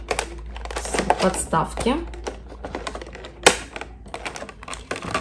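Plastic packaging being cut and snipped to free a doll's display stand, with repeated crinkly clicks and scraping close up and a sharp snap near the middle, under someone talking.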